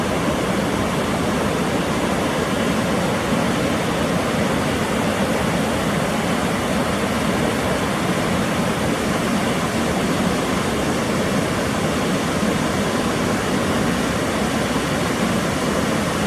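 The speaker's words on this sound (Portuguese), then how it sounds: "abaixo da Cachoeira de Santa Rosa, é a Cachoeira do Alceste" Cachoeira do Alceste waterfall, below the Cachoeira de Santa Rosa, roars as a steady, dense, broadband rush of falling water, loud and unbroken throughout.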